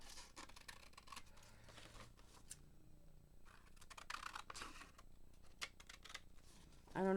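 Scissors trim an artist trading card up close, with small quiet snips, paper rustles and light handling clicks scattered across the moment, ending with a louder scrape.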